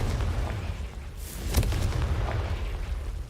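A single Confringo spell explosion in Hogwarts Legacy, a sharp burst that booms out in the middle, set against a low rumbling game ambience.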